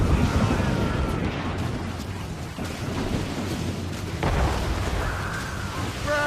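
Heavy cannon fire and explosive impacts in a naval battle in Assassin's Creed Rogue, a continuous deep rumbling roar with booming bursts, loud and close throughout, with no clear speech.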